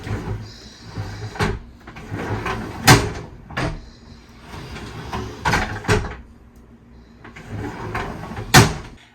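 Pantry drawers being fitted into a cabinet, sliding into place with several sharp wooden knocks and clunks spread across the stretch, close and fairly loud, with brief rattles between them and no talk.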